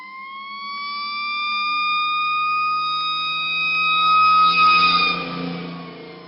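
A steady wailing siren from a toy fire truck holds several sustained tones, loud and continuous with a slight waver, no talking.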